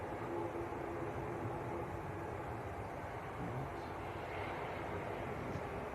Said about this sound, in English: Norse taxiing in, TUI taxiing out